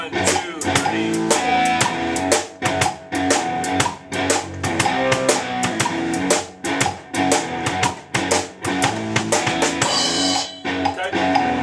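Drum kit groove played in straight time, with steady kick, snare backbeats and crisp cymbals in a driving even rhythm, loud and close throughout.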